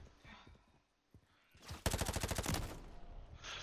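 Rapid automatic gunfire from the video game Call of Duty: Modern Warfare 3 multiplayer, a loud dense burst of shots lasting under a second, preceded by quieter game noise and a single sharp report.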